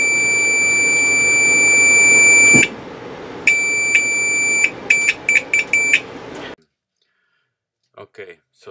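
A digital multimeter on its continuity setting gives a sustained shrill beep, then a quick run of short beeps as the probes touch and lift, ending in near silence with faint clicks.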